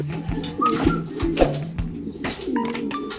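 Racing pigeons arriving at the loft after a 327 km race from Tabaco, Albay, with close soft cooing and flutters over steady background noise.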